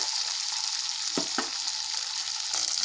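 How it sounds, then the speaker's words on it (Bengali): Continuous sizzle of okra frying lightly in a pan, with a couple of brief stirring scrapes partway through. "তো ঢ্যাঁড়সগুলো আমি একটু হালকা করে ভেজে নেব"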